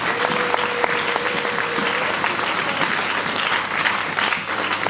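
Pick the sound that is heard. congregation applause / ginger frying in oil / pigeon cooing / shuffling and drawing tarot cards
congregation applause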